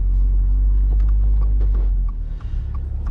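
Low steady rumble of a 2023 Toyota GR86 six-speed manual's engine running, heard from inside the cabin, loud and continuous with a slight dip partway through, no talk over it.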